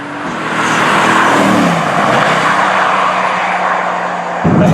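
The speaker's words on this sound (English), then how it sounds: "and I'm flooring it and I'm amazed." Mercedes-AMG GT S accelerating at full throttle: a loud, close, sustained engine roar that holds steady throughout, with no talking.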